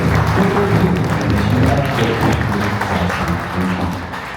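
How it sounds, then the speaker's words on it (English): An audience applauds after a Navajo jingle dress dance performance in Page, Arizona; the dense clapping is steady and fairly loud, fading slightly near the end, with low voices murmuring beneath it. "Let's give those ladies another round of applause."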